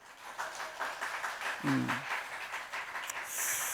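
Applause from a church congregation at a Sunday morning service, a broad crackling patter of many hands clapping at moderate volume with a brief voice partway through.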